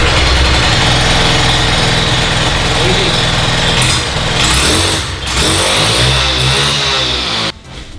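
A Makita EK7651H petrol concrete cutter runs loud and close, its small two-stroke engine droning and revving unevenly before cutting off near the end.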